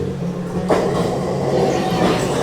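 A train rolls into a station with a loud, steady rumble and rattle that swells suddenly and then holds, close by.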